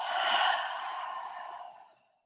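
A person exhales deeply during a mat exercise class, a single long, breathy outflow of air that is close and soft and fades out over about two seconds.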